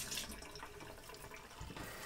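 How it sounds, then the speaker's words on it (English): Hot water running from a tap into a glass beer bottle being rinsed for home-brew bottling, a steady close rushing and splashing that lasts the whole moment with no talk. "fill it up with hot water"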